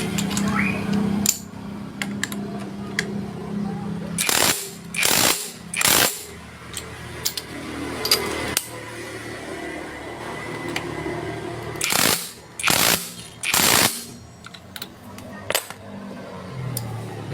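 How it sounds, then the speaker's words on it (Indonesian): A power tool tightening the nut on a Revo motorcycle engine, a handful of loud, close bursts in short separated runs over a steady workshop hum, with a voice briefly heard. "Langsung kita kencangkan aja ya."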